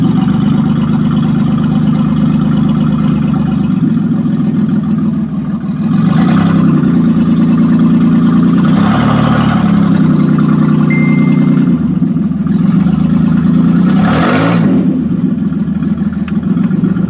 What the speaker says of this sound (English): Sounds kind of nasty for a V6.